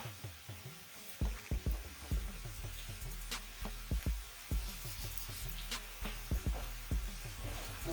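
Ground turkey browns in a skillet, a faint sizzle beneath frequent rhythmic scraping and tapping of a spatula stirring the meat, with a low steady hum throughout.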